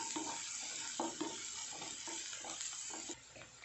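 Vegetables sauté in a pan for momo filling, a steady broadband sizzle with irregular stirring scrapes and clicks running throughout, close and moderately loud, no voices.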